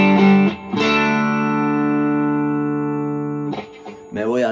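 A Stratocaster electric guitar runs through a Pedalcluster Jaminabox effects pedal with extra distortion dialed in. A loud, thick, overdriven chord is struck and sustained for several seconds, with short picking attacks at the start and end.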